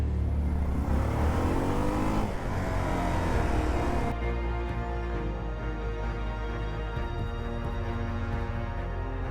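A broken motorbike with a faulty gearbox and a missing third gear revs loudly up close, with a continuous droning engine note that rises, drops at a gear change, and settles into a steady whine.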